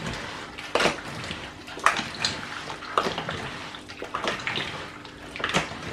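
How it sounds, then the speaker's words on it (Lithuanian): Water poured from a container into a glass jar of sliced cucumbers being pickled, a splashing, gurgling pour with a few louder surges, close by and alone. "Ir užpilam vandeniu, litro vandens."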